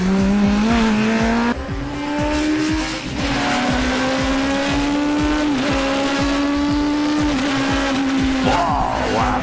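Race car on a fast lap, its engine note loud and sustained, rising steadily in pitch as it pulls hard through gears, with brief dips at shifts.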